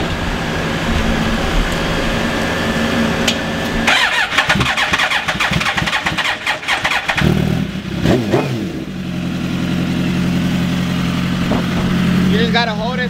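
A built Suzuki GSXR1000 motorcycle cranking and firing up, with the starter churning, then the engine catching and running loud and close, while voices speak nearby.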